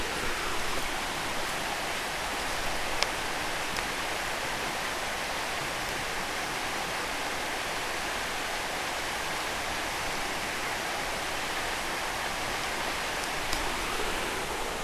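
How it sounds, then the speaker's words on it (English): A river flowing through autumn woods makes a steady, even rush of water that continues unbroken, with no voices over it. "There's so much colour in the woods, and the sound of the river, you can see it now."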